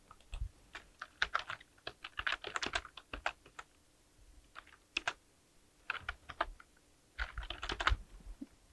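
Computer keyboard typing in a cloud management console, as a schedule name is entered for autoscaling; quick close bursts of keystrokes with brief pauses between them, and no speech.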